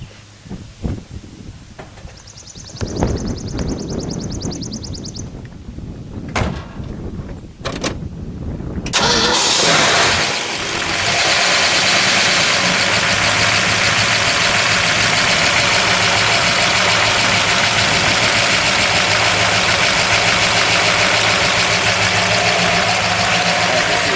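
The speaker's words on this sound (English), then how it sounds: "Just listen to it idle." A 1966 Ford Mustang GT convertible's 289 K-code V8, hood open, sits quiet with a few clunks, then cranks and fires near the ten-second mark and settles into a loud, steady, close-up idle with no voices.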